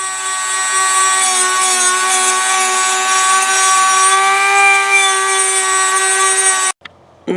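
A file or sanding block works a metal gun part, producing a steady, loud, continuous scraping with tonal ringing that runs unbroken for several seconds before stopping abruptly.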